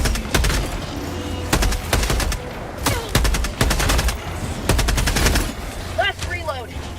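Rapid machine-gun bursts from Helldivers combat, loud and close, in several sustained volleys with short gaps, joined by a few whistling effects near the end.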